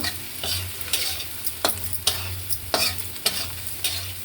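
Onions with salt, garam masala, turmeric and chili powder fry in a pan, a steady close sizzle broken by regular scrapes of a stirring spoon roughly every half second to second.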